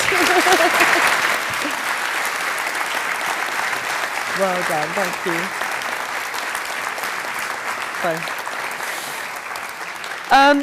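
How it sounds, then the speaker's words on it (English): Audience at a global community conference giving a round of applause, loud sustained clapping that tapers off, with a speaker talking over it and a brief louder burst at the end. "Let's give them a round of applause."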